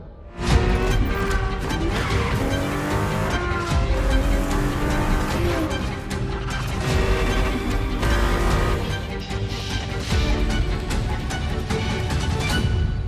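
Ferrari F50 engine driving in The Crew Motorfest racing game, a loud, continuous, revving roar with rising and falling pitch as it shifts gears, plus occasional tire noise, no voices.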